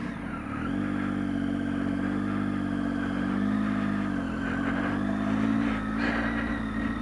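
A Triumph Tiger 800 XCx motorcycle engine runs steadily close by for the whole stretch, a low droning hum that swells slightly as it pulls away, with no voices.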